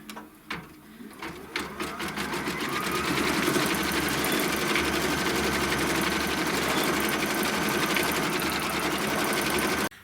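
An embroidery machine quilts a reindeer design on fabric, its rapid mechanical stitching running loud and continuous for several seconds after a few starting clicks, then cutting off abruptly.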